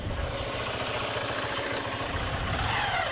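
A motorcycle engine idles at parking, a steady low rumble heard up close and alone, holding an even level throughout.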